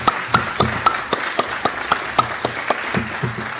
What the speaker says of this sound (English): We need to give them an applause.